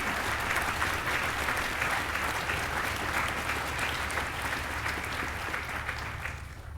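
Crowd applauding at a medical school white coat ceremony, a full, even burst of clapping that holds steady before tapering off near the end.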